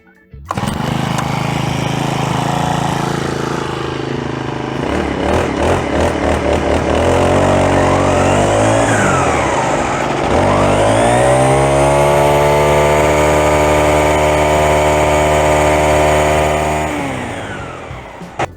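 Procraft four-stroke petrol grass trimmer engine starts and runs steadily, its pitch rising and falling as the throttle changes before settling into a loud, continuous drone close by.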